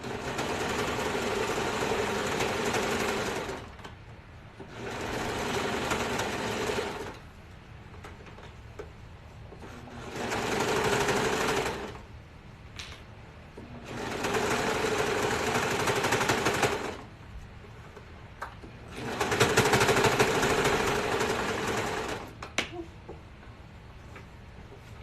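A sewing machine stitches a fabric bonnet in four loud, steady bursts of rapid mechanical whirring, separated by short quiet pauses with faint handling noise.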